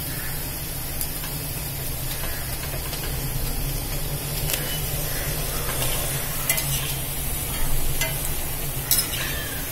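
Onion pakoda fries in hot oil, a continuous loud, close sizzle and bubbling with occasional stirring scrapes and faint clicks throughout.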